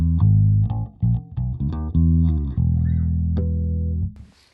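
A bass guitar plays a short run of notes through a ribbon-miked 2x10 bass cab simulation, slightly gritty, ending on a long sustained note that fades.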